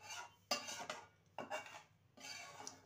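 Egg curry masala for egg kosa being stirred in a pan with a utensil, three distinct scraping bursts against the metal separated by short pauses, close and clear with no talking.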